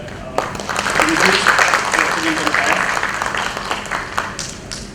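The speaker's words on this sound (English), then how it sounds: "We can give a round of applause" A crowd at a post office branch inauguration at Bharati Station, Antarctica, applauds steadily for several seconds, a dense wash of claps with some voices mixed in.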